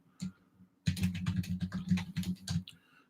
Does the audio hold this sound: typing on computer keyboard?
yes